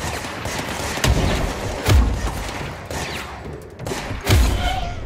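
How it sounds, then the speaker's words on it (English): Grenade explosions in the action video game Control: two or three sharp, loud booms with low thuds, spaced a couple of seconds apart over a dense bed of gunfire and combat noise, with no voices. "Oh, that's a grenade."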